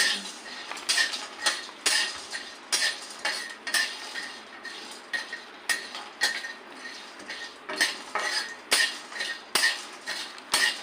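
Cashews and pumpkin seeds tossed in a pan where black sesame was just roasted, with repeated clinks and scrapes of a metal spoon against the pan in a steady rhythm, close and moderately loud, with no talking.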